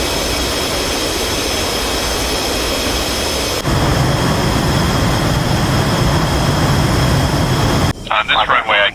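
Jet engines of a military aircraft in the DCS flight simulator roar steadily at high power for a short-runway takeoff, growing louder partway through before an abrupt cut to radio-like chatter at the end.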